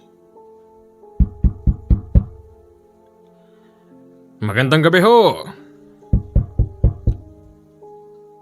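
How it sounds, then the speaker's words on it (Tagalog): Knocking on a house door at night: two bursts of about five sharp, evenly spaced raps each, separated by someone speaking a greeting, with a low eerie drone underneath. "may kumakatok sa bahay"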